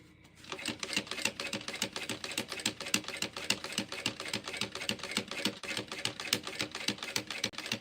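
A sewing machine top stitching a shoulder bag runs in a fast, steady mechanical rattle of rapid needle strokes. It starts after a brief quiet moment and continues close and even throughout, with no talking.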